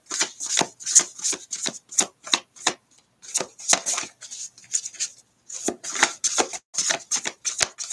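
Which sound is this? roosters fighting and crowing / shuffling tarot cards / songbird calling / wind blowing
shuffling tarot cards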